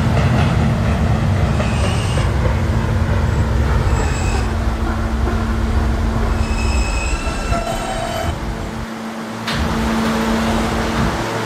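Simulated R160A subway train on a K line in a Roblox game, its steady loud rumble and rolling clatter broken by high wheel squeals, with no talk over it.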